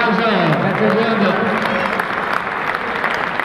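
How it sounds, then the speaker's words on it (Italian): A crowd applauds steadily and loudly after a 10-metre rope climb world record attempt, the clapping continuous with voices and cheers mixed in at the start. "Un applauso, grazie mondo."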